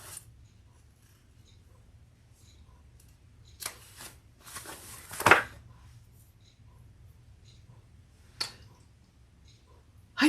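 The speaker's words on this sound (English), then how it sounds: "we got to snip into our main panels just to the seam" Scissors snip into fabric bag panels up to the seam, a cluster of close crisp cuts in the middle followed by a single later snip, against a quiet room with no talking.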